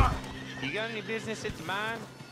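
A horse in Red Dead Redemption 2 gives a loud, clear whinny with rising and falling pitch, repeated twice in quick succession, over faint hoof clip-clop.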